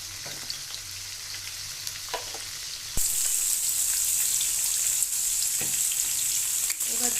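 Chopped onion dropped into hot mustard oil in a kadai, the quiet sizzle suddenly swelling into a loud, steady hiss with scattered crackles and spatters, close up.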